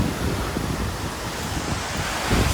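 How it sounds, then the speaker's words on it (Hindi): Ocean waves off Nusa Lembongan, Bali, with turquoise water and a strong breeze: a continuous loud rush of surf blended with wind buffeting the microphone, no speech. "Look at the waves."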